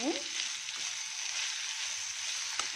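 Ivy gourd sautéing in a pan with green chilli, grated coconut and cumin, a steady close hiss of frying with a faint utensil tap near the end.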